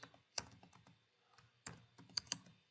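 Quiet, irregular taps on a computer keyboard, a few isolated keystrokes spread out with short pauses between them, heard close and alone.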